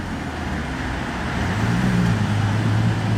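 An Aston Martin DB6 drives down a Monaco street at night, a low engine rumble that builds and swells as it approaches, blended with surrounding traffic noise.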